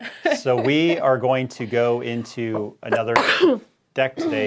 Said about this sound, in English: No, it was a cough, kind of.